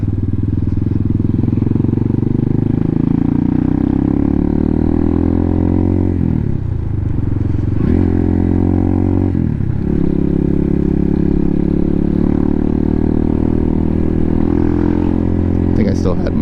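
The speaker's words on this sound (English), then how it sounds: "It kind of is a dirt bike." A Hawk 250 dirt bike rides along with a steady engine drone that rises and falls through several gear changes, while a voice talks over it throughout.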